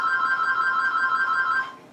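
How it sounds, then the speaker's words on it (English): A telephone rings steadily and continuously in a quiet indoor room, a bright, even electronic trill that fades out near the end. "sometime this phone is going to stop ringing"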